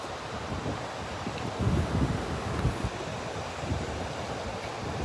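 Strong waves washing onto Boracay beach, a rough, steady roar of surf mixed with wind buffeting the microphone, swelling slightly midway.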